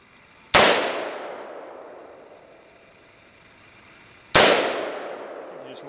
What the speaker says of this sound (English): You just put a bullet right through it.